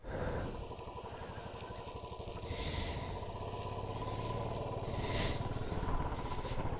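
A motorcycle engine runs steadily close by on a mountain pass road, its low rumble building gradually as the bike pulls away in first gear, with no talk over it.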